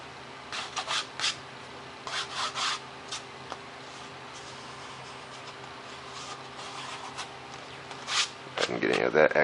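Short, intermittent rubbing strokes as excess glue is wiped off the foam main wing of a micro J-3 Cub model plane, close and soft over a faint steady hum, with a louder scrape at the end.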